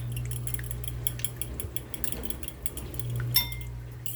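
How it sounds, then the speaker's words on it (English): A fork stirs a raw room-temperature egg in a bowl, giving a run of light metallic clinks and scrapes against the dish over a steady low background hum, with a sharper clink near the end. "I'm going to grab my trusty fork. And we're just going to stir that up."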